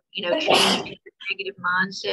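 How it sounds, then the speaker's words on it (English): One sharp sneeze bursts out near the start during a board meeting, loud and brief, followed by someone speaking. "Bless you, whoever sneezed."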